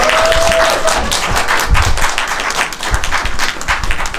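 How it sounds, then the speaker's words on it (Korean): A theater audience claps loudly to welcome a film director and two actresses at a movie screening talk, a full dense burst of applause that carries on throughout, with a brief tone near the start. "큰 박수로 맞춰주세요."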